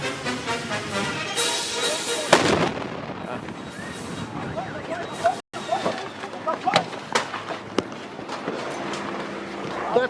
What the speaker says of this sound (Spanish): Así fue el momento de la explosión en primera persona.